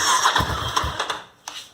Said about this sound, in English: I'll start it up here.